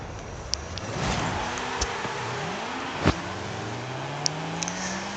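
A twin-turbo Mazda RX7 race-spec build in Forza Horizon 5 revs and accelerates, its engine note sweeping up and down in pitch, with a few sharp clicks and a thump midway, and no talk.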